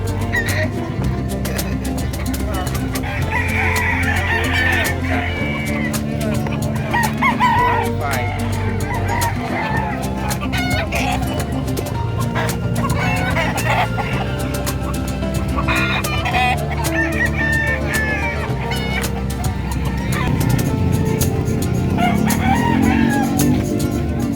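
Chickens cluck continuously while a rooster crows now and then amid a crowded, noisy livestock market in Malasiqui, Philippines, with people talking in the background.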